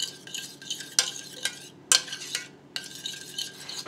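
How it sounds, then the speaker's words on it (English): Teriyaki glaze sauce ingredients, including apricot and ginger, being stirred together in a bowl or pan, with several scraping, clinking strokes of a utensil at an irregular pace, close and fairly quiet. "Now stir it all together"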